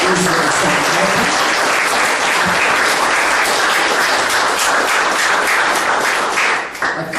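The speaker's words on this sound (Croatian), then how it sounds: "molila bih jedan veliki aplauz za gospodina Juricu Gašpara koji nam dolazi iz Sarajeva" A large audience gives a sustained round of applause for a guest at a book launch event, with thick continuous clapping throughout that thins briefly near the end.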